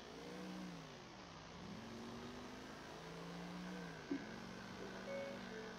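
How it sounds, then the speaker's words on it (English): Muscle car engine in GTA 4 rising and falling through a couple of revving sweeps, a steady mid-pitched drone heard quietly in the background. "it's kind of like a muscle car"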